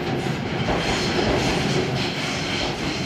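A steady, rumbling train in Tokyo roars past close by a train station, with a continuous rattling wheel noise and no pauses.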